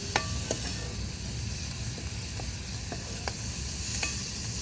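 Cabbage and chili sambharo sizzles steadily in a pan on a wood-fired chulha, with faint scrapes and taps of a spoon stirring through the continuous frying hiss.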